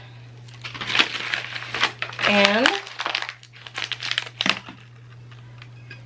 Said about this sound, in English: Take the paper off.